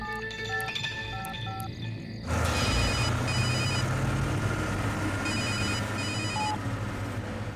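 A telephone rings repeatedly in a tense scene, its bright electronic trill pulsing in bursts over a loud, dense background of dramatic music and ambience.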